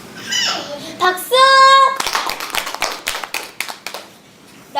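Children in an arts class voice a few sung or shouted sounds, then break into a burst of sharp, uneven hand claps that thin out toward the end.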